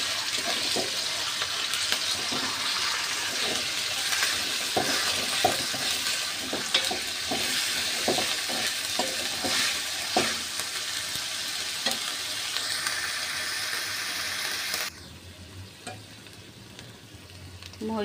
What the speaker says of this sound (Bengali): কড়াই বসিয়ে তেল দিয়ে পেঁয়াজ রসুন বাটা দিয়ে দিয়েছি।